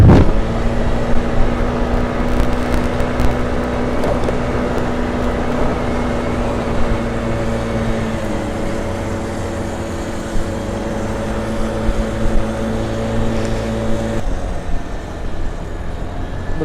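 A dirt bike engine cruising at about 35 mph on a road at night, a loud steady droning hum with a fairly constant pitch and slight shifts, accompanied by wind rush throughout.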